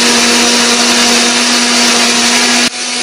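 A kitchen blender runs at a steady loud whir, grinding chili peppers and eggs together, then cuts off abruptly near the end.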